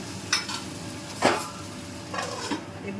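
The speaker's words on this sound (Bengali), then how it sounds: "তরকারিগুলো মোটামুটি একটু কড়াইয়ের মধ্যে নাড়াচাড়া হয়ে গেছে।" Vegetables for Bengali shukto stirred in a kadai, with three or four short scraping strokes spread across a few seconds over a soft, steady frying sizzle.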